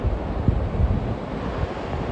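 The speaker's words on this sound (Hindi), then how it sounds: "ये देखो, मतलब आवाज़ यहाँ तक आ रही है इस पानी की।" River water rushing through a Himalayan valley near Gangotri, a steady, broad roar with heavy low rumble and wind buffeting the microphone, no voices.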